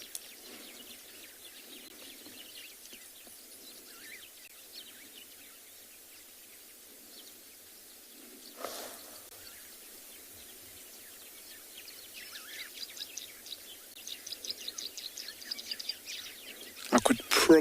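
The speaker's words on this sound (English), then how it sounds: "I could probably, just from that moment of silence, hear about 5 different birds. Cape turtle dove, your Cape glossy starling, your sociable weavers." Wild birds calling at dawn on a South African safari, including Cape turtle dove, Cape glossy starling and sociable weavers, faint scattered chirps and calls over soft insect buzz, growing busier toward the end.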